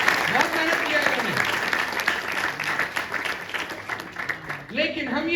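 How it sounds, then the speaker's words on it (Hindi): An audience at a leadership seminar breaks into sustained applause, dense clapping that runs throughout, with a voice briefly rising over it near the start and again at the end. "एक बार शानदार तालियां होनी चाहिए इन सभी लीडर्स के लिए"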